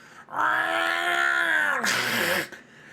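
A human voice imitates a cat with one drawn-out, whiny meow that ends in a breathy hiss, loud and close, with no other sound around it.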